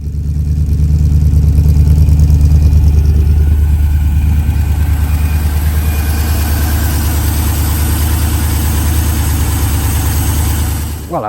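A Rover 3.9 V8 fitted in a Triumph Toledo idles steadily up close, a deep, loud, continuous engine rumble with a low throbbing beat throughout and no talking.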